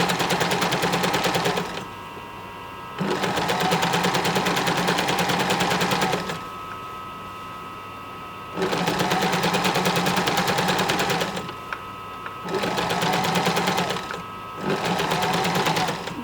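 A sewing machine runs in several bursts of steady, rapid mechanical stitching while a French seam is sewn along a hem allowance, with short pauses between runs.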